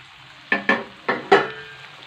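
Local chicken with capsicum frying in a pan, stirred in four distinct bursts of sizzling scrape and clatter, close and fairly loud over a low background hiss.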